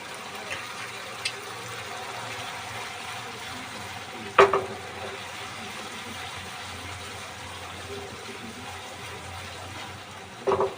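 Pomfret masala sizzles steadily in a pan on the stove, a constant low frying hiss with a couple of sharp scraping clatters as it is stirred.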